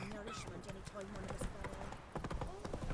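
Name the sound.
horse Roach galloping in the video game Witcher 3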